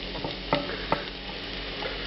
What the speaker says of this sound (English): Now I'm going to add the shrimp. This is 60 grams or about 2 ounces of bay shrimp.